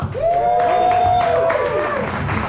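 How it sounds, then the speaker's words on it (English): A comedy show audience applauds and cheers for a comedian, with one loud rising whoop riding over the close, lively crowd clapping before it settles. "Give him a big round of applause for Chris Heist"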